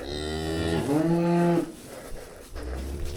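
A cow lowing loudly and close by next to her newborn calf, a single long moo that rises and then cuts off, followed by quieter shuffling sounds.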